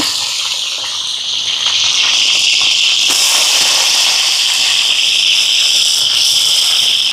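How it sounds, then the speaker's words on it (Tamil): Fenugreek seeds hit hot oil for a Jaffna-style fish curry, cooked in bulk for a hundred-person almsgiving meal. A loud, dense, close sizzle swells after a second and then holds steady to the end, with no speech. "இப்போ எண்ணெய் சூடாகிட்டு வெந்தயம் சேர்ப்போம் மீன் குழம்புக்கு வெந்தயம் கொஞ்சம் பொரியட்டும்"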